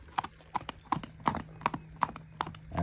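Hooves of a 14- or 15-year-old Quarter Horse gelding clip-clop at a steady trot during a sale-lot showing, the beats crisp and evenly spaced with a faint low hum underneath.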